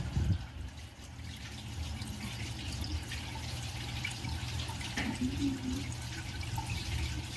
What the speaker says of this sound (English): It won't flush a bottle cap.